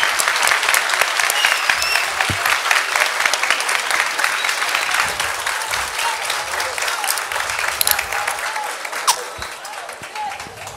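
A hall audience applauds to welcome the CHP party leader at an event in Antalya, with sustained loud clapping from a large crowd throughout and voices mixed in.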